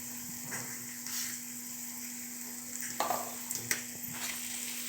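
Tomato masala sautéed in a pan, a steady low sizzle with a constant hum behind it and a few light stirring scrapes near the end, quiet and close.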